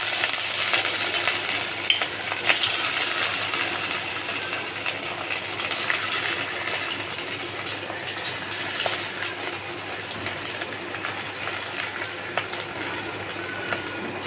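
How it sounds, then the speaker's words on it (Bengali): Marinated fish pakora fries in a pan with a continuous bright sizzle and crackle, near and steady, while a cook stirs and turns the pieces. "দেখো মাছটা এক পিঠ ভাজা হয়ে গেছে, এবার একটু উল্টিয়ে পাল্টিয়ে দেবো"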